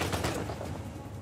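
Rapid gunfire from a firefight in the game Uncharted 4, a dense burst of sharp overlapping shots that fade into a rumbling tail within about a second, loud and close with no talking.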